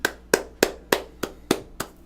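Applause during an online animation critique session comes through as seven sharp, evenly spaced claps, close and crisp, with no talking over them.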